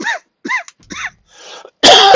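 A man coughs several times in quick succession, close and loud, the short harsh bursts separated by brief silences, ending with a louder rough throat-clearing burst.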